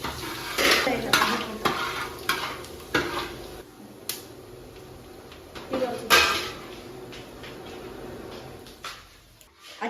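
Mustard seeds and curry leaves frying in hot coconut oil in a pan, crackling sizzle with sharp popping bursts and the clatter of a utensil against the pan, close, with a voice heard intermittently.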